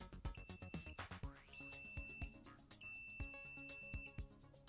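An Innova 3340 multimeter in continuity mode gives several short, high electronic beeps, each a sustained tone of about a second, separated by clicks and handling taps.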